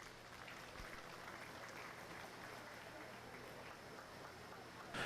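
Steady crowd applause fills a youth cattle show arena at the Gillespie County livestock show, a dense even patter of many hands sustained throughout with a slight swell at the very end.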